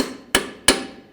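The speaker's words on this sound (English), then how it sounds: "Just give it a tap with a hammer." Two sharp metallic hammer taps on a punch, driving a ball joint out of the steering knuckle of a 2007-2013 BMW 328i during front wheel bearing replacement; evenly spaced, close and loud, with no talk.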